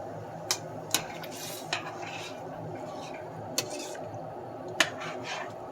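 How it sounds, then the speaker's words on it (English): Broth is stirred gently into a pot of vegetarian curry, bringing soft liquid swishing. A handful of sharp utensil knocks against the pot ring out at irregular intervals, close and fairly quiet. "And we stir it in somewhat gently and bring it to a soft boil"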